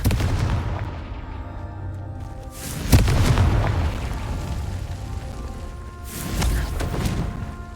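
Blast spell explosions in the video game Hogwarts Legacy: two booming bursts, a sharp one near the start followed by a softer, rolling second boom, over a quiet game backdrop.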